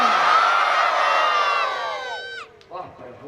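A large crowd at a Bhagavat Katha religious gathering in Prayagraj shouts and cheers loudly as one, with many voices rising together, then the sound drops off sharply into a brief quieter murmur.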